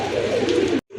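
A pair of unusual fancy pigeons, offered in a fancy pigeon sale, coos in a loud, close, continuous throaty burble that cuts off abruptly, then resumes faintly.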